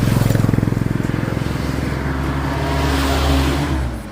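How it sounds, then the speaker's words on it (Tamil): Tourist vehicles climbing a mountain road near Gudalur on the way to a viewpoint, with a close engine pulsing steadily and then a broader, rising motor drone that stays loud throughout. "டூரிஸ்ட் வண்டி வந்துக்கிட்டே இருக்கு"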